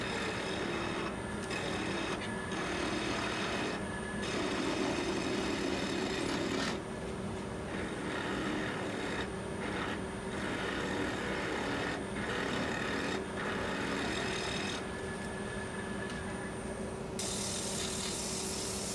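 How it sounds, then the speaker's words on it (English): A maple spatula spinning on a wood lathe while being spindle sanded with 180 to 220 grit paper: a steady, continuous mechanical whir and rubbing hiss with faint rhythmic ticking, close and even, with no talk. "I'm going to sand starting at 180 going up to 220."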